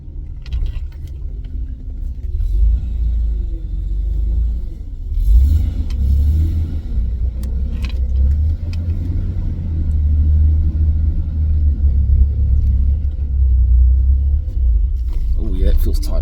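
A Nissan R31 Skyline fitted with a mini spool drives around the block, its engine a steady, loud low rumble throughout with gentle swells as it revs and accelerates, plus faint clicks and rattles inside the cabin.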